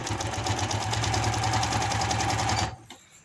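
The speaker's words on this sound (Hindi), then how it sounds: "इसी तरह हम इसकी मुकम्मल सिलाई लगा लेते हैं।" A sewing machine stitching a palazzo pant runs at a steady, rapid clatter close to the mic for most of the clip, then stops abruptly, leaving a quiet room.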